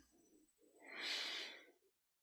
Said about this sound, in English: follow your breath for a few cycles, breathing in